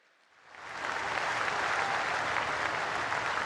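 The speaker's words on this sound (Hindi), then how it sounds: "एक दान ताली पाड़ीने बहुत जोर ही स्वागत करे" Applause from a large crowd welcoming Prime Minister Narendra Modi at a public project inauguration, swelling from quiet to a loud, dense, sustained roar of clapping.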